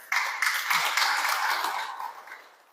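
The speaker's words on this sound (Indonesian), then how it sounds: "Tepuk tangan buat Kalabahi dulu." A church congregation applauds in a short burst of clapping that rises quickly, holds for about two seconds and fades out, heard from a moderate distance with no speech.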